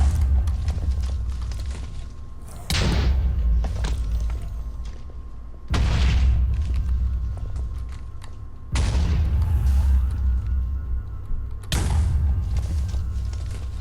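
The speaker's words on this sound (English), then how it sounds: "Once you see the explosions," Four heavy booming blasts from dying Wither bosses in a video game arrive about every three seconds, each a loud low thud with a crackling tail, over a constant rumbling background.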